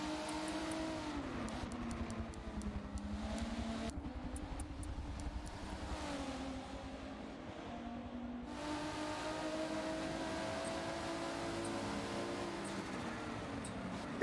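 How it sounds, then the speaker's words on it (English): Race cars lapping Brands Hatch in a sim racing game, engines droning and revving continuously with shifting pitch as cars jostle, one engine cutting in sharply partway through, no talk. "Here we see the all-terrain car with the STEM car just inching behind it."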